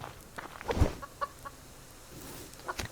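Chickens clucking in the survival video game Subsistence, a few short scattered clucks and soft calls over a low ambient background, fairly quiet and without talk.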